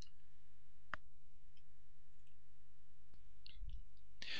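A single sharp computer mouse click while using a REST client interface, close and brief, followed by faint scattered ticks over steady low hum.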